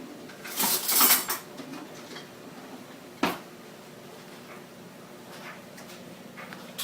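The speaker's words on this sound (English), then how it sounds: "I put 1 spoonful in, mix it around" A spoon mixes a brown sugar and flour crumb topping into oatmeal, giving a few close clinks and scrapes against the bowl, a louder burst early on and one sharp tap midway, then quiet.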